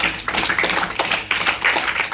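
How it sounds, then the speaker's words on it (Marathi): Several people clapping hands together at a discussion gathering on fathers, a dense, fairly close patter of claps that stays steady throughout the short burst, with no talk over it. "टाळ्या वाजा त्याला"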